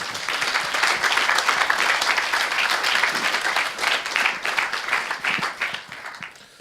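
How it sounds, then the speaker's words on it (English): An audience at a technical conference applauds after a presentation, brisk clapping that swells, dips briefly, then continues and dwindles to a few scattered claps. "so another round of applause for Marc."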